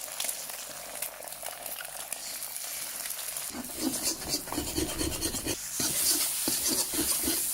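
Garlic hits hot vegetable oil in a wok, starting as a soft rasp and then growing into a louder, crackling sizzle that keeps building, with no voices.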